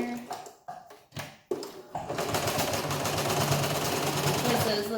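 A sewing machine stitches a duckbill face mask, first in short stop-start bursts and then in a steady, loud, close whir that runs unbroken to the end.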